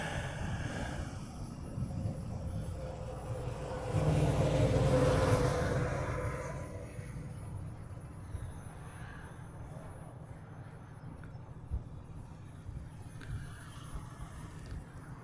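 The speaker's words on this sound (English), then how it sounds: "the Asiana, the Philippine, and then that Delta coming in from Tokyo" A Delta airliner arriving from Tokyo at an airport in Hawaii roars as it passes, with the engine noise swelling to a peak and then fading into distant jet rumble.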